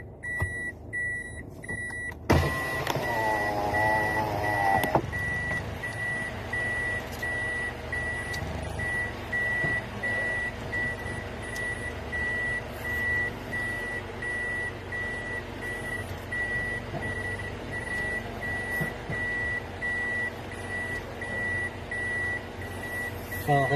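Vehicle reversing into a parking spot. A reversing alarm beeps steadily and evenly throughout, over a low engine rumble, with no talk.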